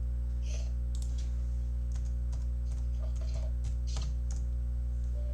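Keys tapped on a computer keyboard in short irregular bursts of clicks over a constant low electrical hum, close and fairly quiet, with no voices.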